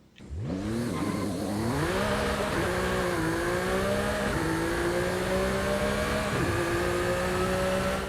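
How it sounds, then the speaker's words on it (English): A McLaren Artura V6 engine in the video game Forza Horizon 5 revs up and climbs through several gear shifts, a loud continuous growl with brief dips between gears. "let's go ahead and take a listen to that V6"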